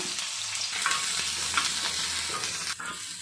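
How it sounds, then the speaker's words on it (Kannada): Chopped onion fries in hot oil for fish sambar, a dense, steady sizzle close to the pan with occasional stirring scrapes, with no talking. "ಒಂದು ಈರುಳ್ಳಿ ಕಟ್ ಮಾಡಿ ನೀಟಾಗಿ ಬ್ರೌನ್ ಕಲರ್ ಬರೋವರೆಗೂ ಫ್ರೈ ಮಾಡ್ಕೊಳ್ಳೋಣ"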